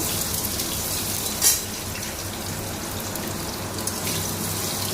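Potatoes frying in a pan with bay leaf and cumin, a steady close hiss of sizzling oil, constant and fairly loud, with one brief sharper crackle partway through and no voices.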